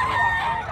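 A bullstag rooster crows, a brief loud harmonic call heard up close and cut short within a second.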